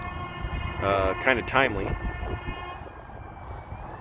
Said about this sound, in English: So many police sirens and ambulance sirens this morning.